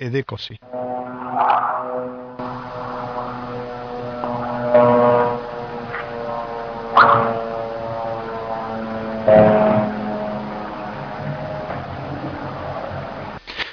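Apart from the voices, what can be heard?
recording of military aircraft flying over houses in Gaza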